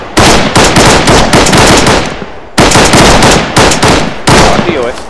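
Loud bursts of rapid automatic gunfire in rhythmic volleys from the video game Arma 3, with a brief pause between bursts, close and dominant.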